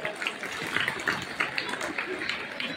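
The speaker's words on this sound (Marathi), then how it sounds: "टाळ्या जोरदार टाळ्या वाजवायच्या आहे।" Students at a school Independence Day function clap loudly, a brisk, rhythmic run of claps that fills the room for a few seconds.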